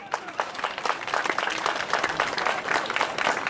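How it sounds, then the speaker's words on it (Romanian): A crowd at a village day celebration in Vetrișoaia applauds the mayor with steady, dense clapping that holds evenly throughout. "De aceea vă rog să-l aplaudați pe domnul primar."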